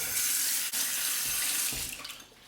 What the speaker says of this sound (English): I will warm up my Shave Nation bowl under the hot water.